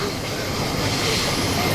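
An electric passenger train pulls away, its steady broadband rumble and rising motor whine filling the space continuously from start to end, loud and close with no talk over it.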